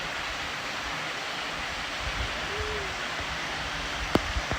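Water flowing out from between mountain rocks at a spring-fed pool in Himachal Pradesh, a steady, even rushing wash with a few brief knocks near the end.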